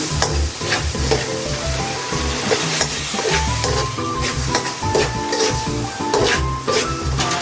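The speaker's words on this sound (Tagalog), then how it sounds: "Ilalagay ko na yung giniling. Giniling yung ilalagay ko. Tsaka chicken." Ground meat and chicken sizzle and fry in a pan as a utensil stirs and scrapes through them continuously, close and loud, with music playing underneath.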